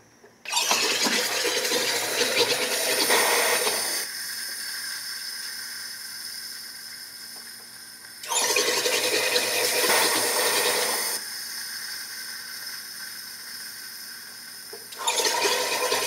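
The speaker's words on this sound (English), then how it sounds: "Let's see if we can carbonate applesauce." A SodaStream machine forces gas into applesauce in three loud hissing, rushing bursts of several seconds each, separated by quieter bubbling and venting between them, with no talking.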